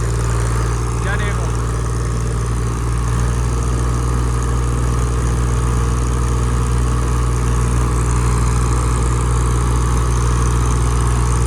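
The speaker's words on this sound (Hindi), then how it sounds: "तो फिर से भैया ट्रैक्टर शुरू हो रही है।" Eicher 557 tractor engine running in a field during a tractor pulling contest, a loud continuous low drone with steady hum throughout, while people talk briefly over it.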